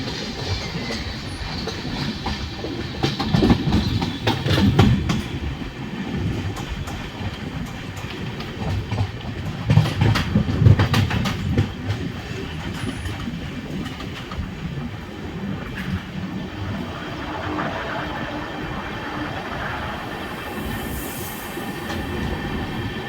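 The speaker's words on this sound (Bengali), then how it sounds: "আমাদের ট্রেন 545 কিলোমিটার পথ অতিক্রম করে এলটিটি শালিমার এক্সপ্রেস এখন পৌঁছেছে" An LHB-coached LTT Shalimar Express running on rails gives a continuous rumble with rhythmic clickety-clack bursts that swell twice, plus faint wheel squeal, with no voices.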